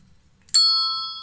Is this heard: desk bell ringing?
yes